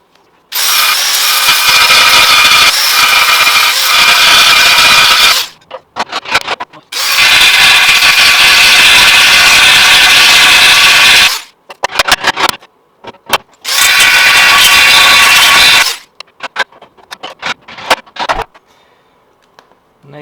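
A power tool cuts through the seam-welded sections of a crash-damaged Ford Fiesta ST150 inner wing panel, running in three loud, sustained bursts of grinding with short pauses and scattered clanks between them.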